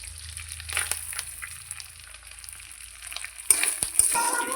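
Gobindobhog rice with ginger paste frying in a pan for pulao, a quiet sizzle with sporadic scraping stirs that grows louder and sharper near the end, no speech.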